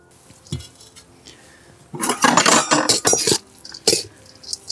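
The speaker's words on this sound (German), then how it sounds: "Jetzt nehme ich unser geraspeltes Obst und Gemüse," Grated celeriac, carrot and apple are tipped from one bowl into a larger bowl for a Waldorf salad, giving a burst of scraping, clinking dish and utensil sounds in the second half after a few quiet taps.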